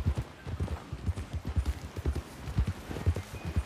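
Game horses gallop in a fast, continuous clip-clop of hooves, the beats tumbling over one another at a steady pace, close and clear with no speech over them.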